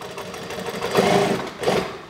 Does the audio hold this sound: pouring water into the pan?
no